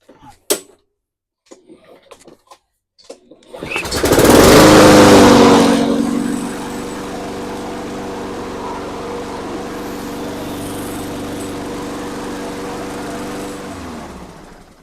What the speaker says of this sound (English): I'm going to start it real fast and make sure that the wheels drive